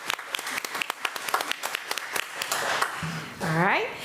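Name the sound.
audience applause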